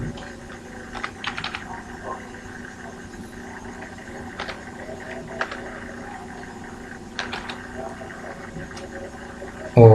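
Typing text into an Excel cell on a computer keyboard produces steady, close key clicks in short irregular bursts, with a louder thump at the end.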